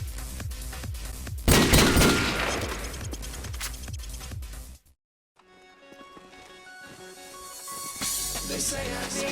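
Rapid gunfire in Call of Duty 4 Promod cracks loudly as a sustained burst of shots, breaks off into a short silence, then continues more quietly under game music and ambience.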